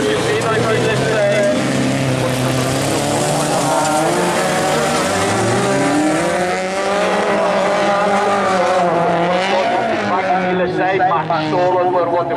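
Class A two-wheel-drive autocross race cars up to 1600cc at a 2019 Swiss autocross event on asphalt, engines roaring and revving continuously at close range, with a commentator talking over them throughout.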